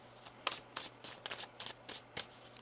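Tarot cards being shuffled by hand give a quick series of soft, papery riffles and flicks in short irregular bursts, close and quiet, with no speech.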